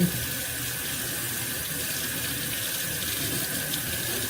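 Tap water runs steadily into a sink while a fibrous, woody parsnip is rinsed under it, a constant close splashing stream with no voices.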